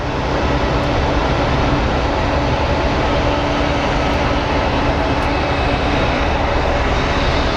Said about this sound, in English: So this is the plane that can be attributed to the end of the MD-11 and the tri-jets, because the 777 directly competed with McDonnell